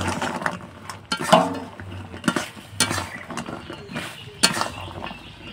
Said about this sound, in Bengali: এবার আমি গজাগুলো দিয়ে দেবো গুড়ের মধ্যে।